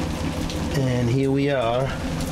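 Rain falls on the aft deck of an Ocean 68 motor yacht, a steady hiss and patter under a person speaking close by.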